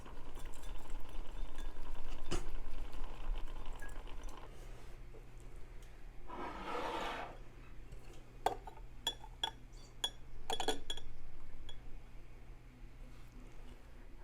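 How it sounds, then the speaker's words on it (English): A cocktail is mixed with ice: scattered clinks of glass and utensils, a brief burst of rattling ice being shaken, then a quick series of sharp taps and clinks, close and fairly faint. "I'm just gonna shake this and mix it."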